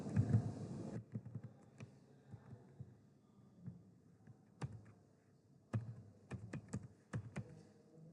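Typing on a computer keyboard, scattered soft key clicks and a few sharper taps in irregular rhythm, close and quiet, after a brief low rumble at the start.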